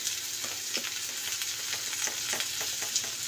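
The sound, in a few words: masala with salt sautéing in a pan for fish curry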